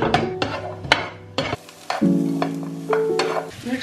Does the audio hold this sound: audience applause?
no